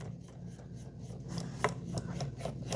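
A number 2 Phillips screwdriver unscrews the geared side mop of a Roborock Saros 10 robot vacuum, giving soft, close scraping and rasping turns with a few sharper clicks.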